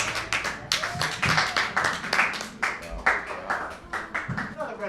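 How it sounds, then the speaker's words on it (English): A small crowd at a dive bar comedy show claps for a comedian in an uneven burst of applause, with some speech mixed in. "Another round of applause for Miss Holly Logan"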